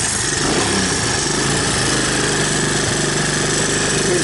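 A Honda ATC200ES Big Red three-wheeler ATV engine idles steadily while warming up after repair, a close, continuous, throbbing mechanical chug with no voices.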